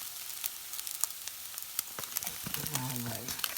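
Meat and garlic frying in a pan for shepherd's pie, with a steady close crackling sizzle, scattered spits and pops, and a clank of a utensil near the end.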